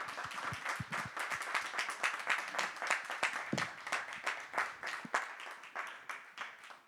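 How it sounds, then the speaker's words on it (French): An audience at a French-language talk bursts into applause, a dense, fairly quiet patter of many hands clapping steadily for about seven seconds with no clear voices over it. "Vous pouvez applaudir."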